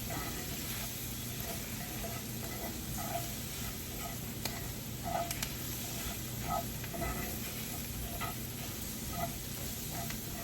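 Onions with ground cumin sizzle in a pan for black bean dip, giving a constant dense hiss with faint, regular taps of stirring, close and steady with no talk.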